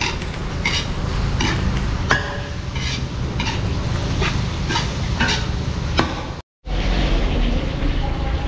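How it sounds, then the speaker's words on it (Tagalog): Food sizzling and hissing in a hot pan, with repeated scrapes and stirs of a utensil, close up; a brief dropout near the end. "Sige po, gigisa ko lang to."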